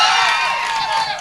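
A crowd at a live comedy stage event cheers and shouts loudly in a sustained, bright roar that fades slightly toward the end.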